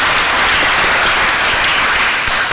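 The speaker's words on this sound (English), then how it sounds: "So a round of applause, first of all, of that." An audience at an arts summit panel discussion applauds, producing a dense, steady wash of many hands clapping that carries loud and even throughout, with no voices over it.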